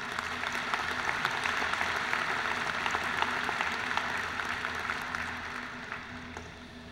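A commencement ceremony audience claps steadily and broadly for several seconds, a dense wash of many hands in a large hall that slowly tapers off toward the end.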